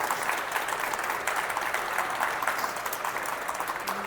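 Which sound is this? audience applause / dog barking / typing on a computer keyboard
audience applause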